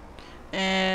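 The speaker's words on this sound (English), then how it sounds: "once the train comes, you can get in it" A train arrives in the Farming Simulator 22 video game on the Elm Creek map. After half a second of near silence, a loud, steady horn-like tone kicks in and holds.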